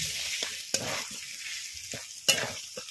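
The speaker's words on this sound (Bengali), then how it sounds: "পেঁপেটা মশলার সাথে খুব ভালো করে কষিয়ে নেব।" Fried papaya pieces stirred into spices in a hot pan for papaya dalna, a steady soft sizzle broken by a few sharp spoon scrapes and knocks, close and moderately quiet, no voices.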